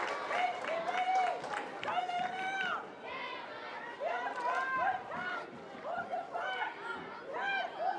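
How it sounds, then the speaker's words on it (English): Crowd at a women's A-League soccer match in Canberra, a steady roar of cheering and crowd noise underneath a commentator's continuous speech. "Receives loud cheers from the Canberra crowd."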